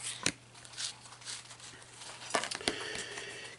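Tarot cards being shuffled by hand give quick, soft papery riffles and crinkling brushes, with a couple of sharper slaps, close and quiet, over a faint steady hum.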